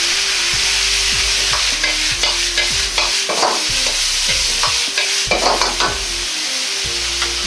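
Bamboo shoots stir-fried with soy sauce in a pan, steady loud sizzling broken by repeated scraping and tossing strokes of the utensil, with no voices.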